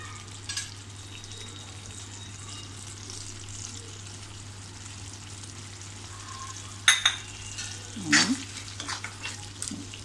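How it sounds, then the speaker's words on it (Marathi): A spoon stirs a pea curry with fresh coriander in a pan after the gas is switched off, producing a few quiet scrapes and clinks late in the clip over a faint, low sizzle and a steady hum. "कोथिंबीर अशी ढवळून घेऊन आपण सर्विंग बॉलमध्ये काढूया."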